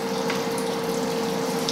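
Diffusion stone releasing molecular hydrogen into a glass of water, giving a steady, close fizzing hiss and bubbling with a constant tonal hum from the connected machine running underneath, with no talk.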